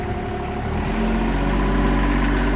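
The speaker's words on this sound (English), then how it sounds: "Now I would recommend idling the motor up just a little bit." A backhoe tractor's diesel engine idles at raised revs during hydraulic outrigger work, a steady close rumble with a constant low hum, running alone without talk.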